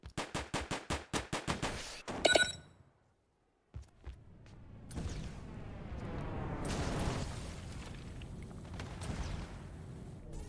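Rapid pistol shots crack in a steady rhythm in Shatter Rush, followed by a sharp blast, a brief silence, then a long rumbling rocket explosion with debris and scattered gunfire.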